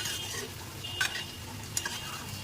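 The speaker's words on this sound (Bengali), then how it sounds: "এখন এটাও ভালোভাবে ভেজে নেব।" Tomato with turmeric, chilli and cumin powders and salt fries quietly in oil in a pan for a pabda fish and potato curry, a soft sizzle broken by two brief scraping taps of a stirring spoon.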